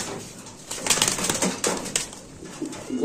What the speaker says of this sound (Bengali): এই যে দেখছেন একদম সাদা চোখের কবুতর